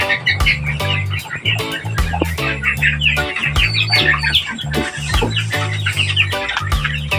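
Backyard farm quail chirp and cheep busily in a dense chorus, heard over a loud, steady rhythmic music backing.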